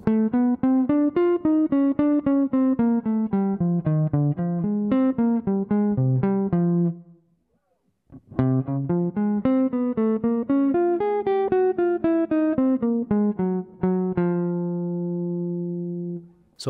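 Jazz line over rhythm changes played on a bright, synth-like single-note instrument, a quick run of evenly spaced notes, a short pause, then a second phrase ending on a long held note; no talk.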